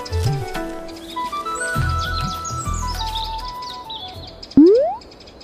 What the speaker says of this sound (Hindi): जहां गिलू कालिया के जाल में कई बेचारे पंछी फंसे हुए थे।